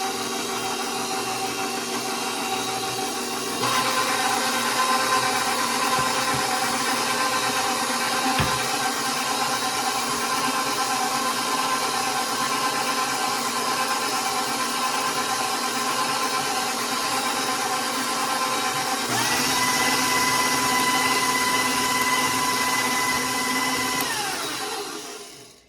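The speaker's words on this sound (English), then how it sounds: "I'm going to beat this egg and yolk until it's fully incorporated" An electric mixer beats egg and yolk for gingersnap dough, a continuous close motor whine that holds steady for about twenty-five seconds, its pitch shifting slightly partway through, with no talking.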